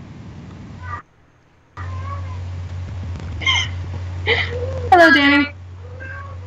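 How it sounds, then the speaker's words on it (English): A cat meows several times in the background, short faint cries rising in pitch, while people talk over a steady low electrical hum. "Is my cat being loud enough to be heard on stream?"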